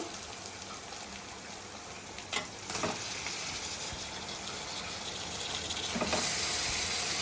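Mutton pieces dropped into fried masala paste sizzle steadily in the pan, a continuous close hiss with a couple of brief louder bursts as the meat hits the hot oil.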